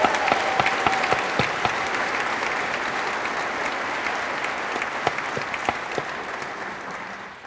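An audience applauds at a chiropractic clinic induction ceremony, a dense, sustained clatter of many hands clapping that fills the hall and fades slightly at the end.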